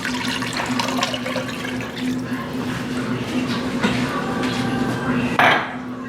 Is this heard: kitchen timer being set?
no